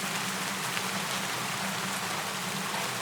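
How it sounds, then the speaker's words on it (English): Steady rain falls outside a tent in a war camp, a dense, even hiss of drops on the surface with a low hum underneath, continuous and unbroken throughout. "the rain continues to fall without pause"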